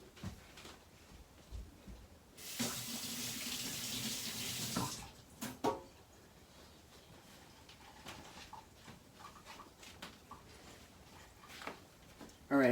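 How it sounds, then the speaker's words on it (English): Water runs from a tap as hands are washed, a steady hissing stream of a few seconds that stops abruptly, followed by quieter handling clatter and small knocks in a workshop. "I better wash my hands"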